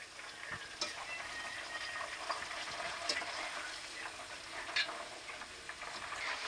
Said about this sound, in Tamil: அடுத்தது வெங்காயம் சின்ன வெங்காயம் செம்பரில் போட்டேன் நல்லா போட்டு காய்ச்சிக்கிட்டே இருக்கணும்